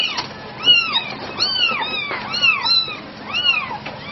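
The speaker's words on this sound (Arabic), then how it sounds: "مياو" A cat meows over and over, about half a dozen drawn-out, wavering calls in quick succession, close and clear with no talking.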